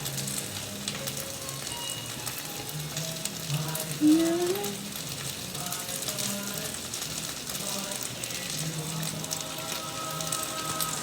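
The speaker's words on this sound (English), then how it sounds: "I'm gonna let those eggs sit for a minute so the layer that's touching the pan is gonna cook" Eggs for Pad Thai fry in a pan with a steady, moderate sizzle, a single short squeak partway through, and faint voices in the background.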